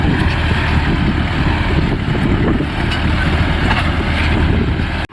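A new ARJUN 4X4 CRDI tractor engine rumbles steadily up close, a low continuous drone with wind noise, cutting off abruptly at the end.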